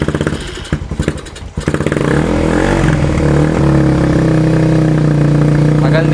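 Motorcycle with a Chukigi aftermarket exhaust, first sputtering unevenly, then settling into a loud, steady, deep bassy idle close by, with someone talking over it.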